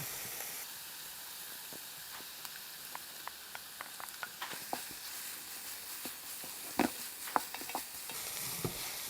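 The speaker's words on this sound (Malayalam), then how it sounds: "അതുകൊണ്ട് നമുക്ക് നമ്മുടെ ബീഫും കൂടെ അങ്ങോട്ട് ഇട്ട് കൊടുക്കാം" Beef frying with shallots in a pan, a soft continuous sizzle with scattered spatula taps and scrapes growing busier toward the end.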